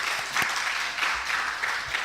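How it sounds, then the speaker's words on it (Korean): A church congregation claps for the choir in a steady, moderately loud patter of applause, with a few sharper individual claps standing out in the wash. "찬양대 격려하고 우리 하나님께 영광의 박수를 올려드렸으면 좋겠습니다."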